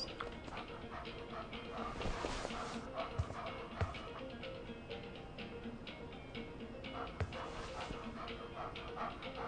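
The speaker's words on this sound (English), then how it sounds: "It's a puppy." Puppy whimpering in the adventure game Life is Strange, faint soft whines and small yips scattered over a steady ambient background, close but quiet.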